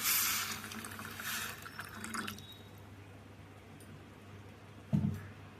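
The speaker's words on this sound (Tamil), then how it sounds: "சக்கரை முழுங்குற அளவுக்கு தண்ணி போட்டுக்கலாம்" Water splashes and pours loudly onto sugar in a pan at first, then fades into a quiet hiss, with a brief clunk near the end.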